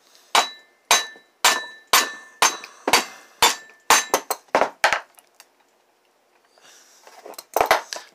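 A hammer taps on a part of a Homelite Super XL Automatic chainsaw to loosen it. About a dozen sharp metallic strikes come in a steady, close rhythm, followed by a short pause and then a few final quick hits.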